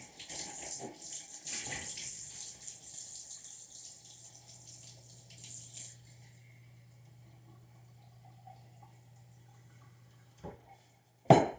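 Hot water at about 110-115 degrees runs from a tap in a soft, steady stream, fading down to quiet with a faint hum and a couple of sharp clunks at the end.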